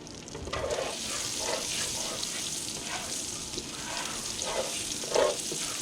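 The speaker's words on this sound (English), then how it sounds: "Give this a little stir." Smoked salmon cooking in a pot gets stirred, producing a soft continuous sizzle and bubbling with faint scraping swishes, quiet and close, with no talking.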